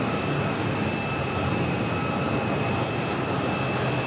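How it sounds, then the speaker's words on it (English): Korean Air Airbus A380 in updated livery taxiing close by at New York's JFK airport, a steady, loud broadband jet engine roar with a constant high whine, holding even throughout with no talk. "that A380 Super is going to be taxiing right in front of our microphones"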